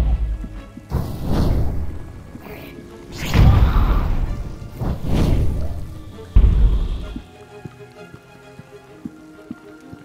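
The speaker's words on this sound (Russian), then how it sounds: "И бомба сверху еще, давай, бабах." Explosions from a bomb in the VR game The Wizards: Dark Times, several heavy booming blasts with crashing debris spaced a second or two apart, loud and close, then fading to quiet game ambience.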